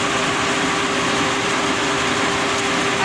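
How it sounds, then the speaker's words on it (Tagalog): A WR-L2 engine idling steadily after its high-tension wire was replaced, a loud, even, continuous hum with a constant drone and no misfires or breaks. "Maganda ng tinig ng makina guys, maanda na at hindi na siya palyado."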